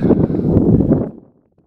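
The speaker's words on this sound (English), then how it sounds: "the wind's blowing way too much and it's kind of irritating to listen to" Strong gusty wind buffets the microphone at a mountain campsite among burnt, dead trees, a loud low roar that fades out abruptly after a second.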